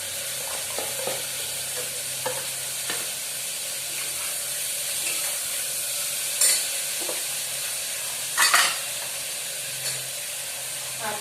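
Tomatoes tipped into a pan of frying onions, with a steady sizzle and hiss under scattered stirring scrapes and a couple of louder clatters near the end; no talk.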